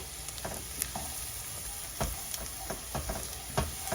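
Melted butter with about 2.5 to 3 tablespoons of flour sizzles steadily in a pan for a gravy, a close, continuous frying hiss broken by a few soft stirring clicks and scrapes.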